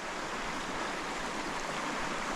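A fishable river runs in cutthroat trout country, its broad, steady rush of flowing water heard close and continuous with no voices.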